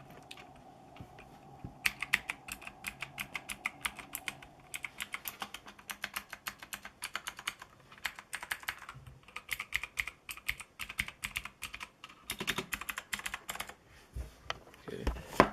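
Typing on a Motospeed CK62 mechanical keyboard with Cherry MX Blue switches, a quiet close run of crisp clicky keystrokes in irregular bursts, sometimes fast and dense, sometimes sparse, over faint background hum.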